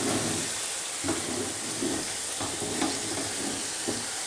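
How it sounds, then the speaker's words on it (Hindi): Spinach and chicken stir-fried in a pan for murg palak, a steady sizzle broken by several scraping stirs of the spoon at irregular intervals, close and alone without talk. "अब इसको अच्छी तरह से मैं मिक्स करती हूँ और भून लेती हूँ"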